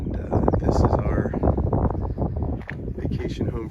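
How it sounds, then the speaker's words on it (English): Strong wind buffets the microphone on a very hilly residential street in Tacoronte, Tenerife, a constant rumbling gust noise that runs throughout, with a person talking over it. "Very hilly street, very windy."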